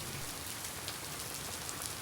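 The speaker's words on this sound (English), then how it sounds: "In Jharkhand, India, it is raining cats and dogs" Heavy rain falls in Jharkhand, India, a dense steady hiss of drops drumming on surfaces, constant and close throughout the short stretch with no voices.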